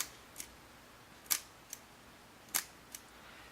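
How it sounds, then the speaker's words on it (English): Kodak Vest Pocket Autographic camera shutter clicking, a few sharp, quiet mechanical clicks spaced irregularly against a near-silent background. "And you can hear the shutter click."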